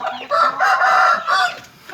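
Chickens clucking and crowing close by, a loud continuous run of fowl calls with no talking.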